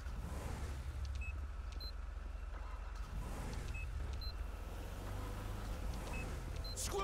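Cars driving in heavy traffic in GTA with an RCMP police pack, a steady engine hum and passing whooshes at moderate distance, with faint beeps and no talk.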